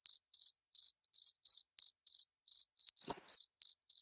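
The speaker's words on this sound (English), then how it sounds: "Fucking crickets" Crickets chirp as a gag sound effect during a wrestling department meeting, a steady, evenly spaced run of bright pulses, quiet and alone, briefly broken by one soft thump.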